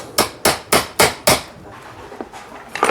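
A hammer strikes a motor gearbox shaft to peen it over during a Brunswick Pinball Wizard motor swap: five sharp metallic blows in a steady rhythm, close and loud, followed by a few lighter taps.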